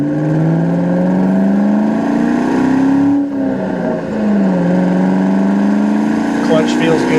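A 1998 Ford Mustang SVT Cobra's engine climbs in pitch under acceleration, dips briefly at a gear change around the midpoint, then rises again, loud and steady from inside the car.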